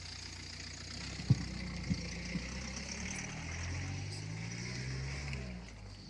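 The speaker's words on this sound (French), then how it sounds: "Attends, laisse passer la voiture." A low engine rumble swells steadily as a vehicle rolls past nearby, with a few soft knocks early on and a faint hiss of background noise.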